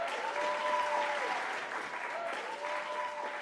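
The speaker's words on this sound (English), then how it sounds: "big round of applause for Dominic Took" University arts event audience applauding a performer, a steady, moderately distant wash of clapping with a faint tonal whistle-like ring over it, continuous throughout.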